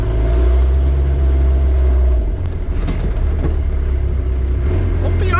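The diesel engine of a right-hand-drive TJ Jeep Wrangler drones loudly from inside the cab, dipping briefly and then pulling again as it accelerates, with a voice speaking over the engine noise.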